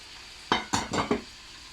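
Onions, cabbage and other vegetables tipped into a hot pan: four quick, loud bursts of sizzle and clatter in close succession, each fading fast over a quiet background hiss.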